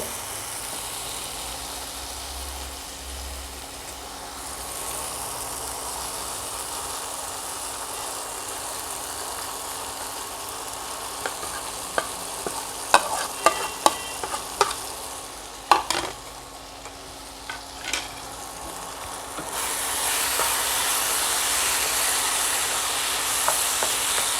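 Paneer and capsicum stir-fry in a pan, Dhaba-style paneer bhurji, with a steady low sizzle and a cluster of sharp spatula scrapes and clicks midway, then the frying swells louder near the end, with no speech.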